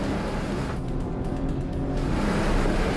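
A four-wheel-drive vehicle grinds steadily up a steep hill with its engine working hard, a constant loud rumble close by with no talking, on a high-country track.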